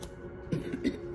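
Two or three short, close coughs with a throaty edge come in quick succession after a moment of quiet.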